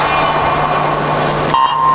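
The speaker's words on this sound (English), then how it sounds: "Waiting for the buzzer." Starting buzzer at a swimming race in an indoor pool at the SEA Games: a steady hum gives way to a short, loud electronic tone near the end, with arena ambience around it.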